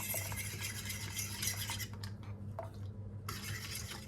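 A chocolate Prague cake cream mixture is stirred in a bowl, giving a steady, close scraping and swishing that pauses briefly near the end before resuming.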